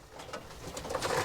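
Pigeons in a loft coo softly in a brief, close burst of low throaty calls, with no talking.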